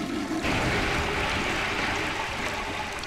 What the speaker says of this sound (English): Did you just flush me into the sewers?